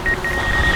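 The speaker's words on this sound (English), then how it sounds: "I'm hearing some beeping on the iPad." A thin, steady electronic beep sounds from an iPad running the control app for a DJI Mavic 2 Zoom drone. It holds almost unbroken across the short stretch over low outdoor rumble, faint and fairly close.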